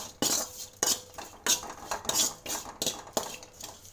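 A spoon scrapes and clinks against a pan while spices and coconut are stir-fried, in about six sharp, regular strokes close by.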